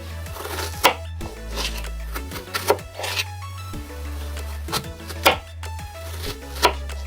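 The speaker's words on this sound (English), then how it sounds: "I'm going to chop them up and have them ready to put in the cake" Strawberries being chopped with a knife on a board for a cake, a steady series of sharp, close cuts at an uneven rhythm over a low background hum.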